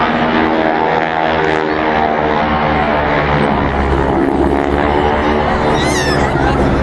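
Propeller plane carrying wingwalkers through an aerobatic maneuver at the Sunderland International Airshow, a loud steady engine drone that shifts in pitch toward the end, continuous and fairly close throughout.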